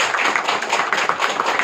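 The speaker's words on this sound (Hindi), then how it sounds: "एक बार ताली बजाओ अच्छी तरह।" An audience of mothers at a class in Rajgarh, Assam claps hands together, a dense, steady patter of many hands close by filling the whole moment.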